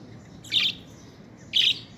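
Pet birds kept outdoors among green trees give two short, bright chirps about a second apart, clear and fairly close over a quiet background hum.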